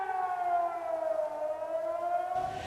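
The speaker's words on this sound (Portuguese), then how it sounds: "As sirenes tocaram no país durante a madrugada" Civil defense sirens wail steadily during a pre-dawn alert, the tone sliding slowly downward, loud and sustained throughout with no voices.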